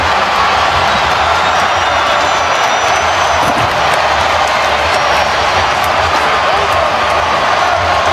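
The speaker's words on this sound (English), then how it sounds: "And the crowd is uproarious." A loud, dense roar of a large NFL stadium crowd cheering continuously at a 2022 Jacksonville Jaguars comeback win over the Chargers, with a commentator's voice blending into the noise.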